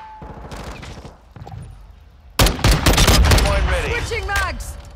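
Gunfire in Call of Duty: Modern Warfare II, quieter distant shots at first, then a sudden loud close burst of rapid automatic fire with fast repeated cracks, mixed with game voices.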